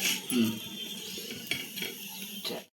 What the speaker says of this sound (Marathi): बटरमध्ये पाव असे शेकून देते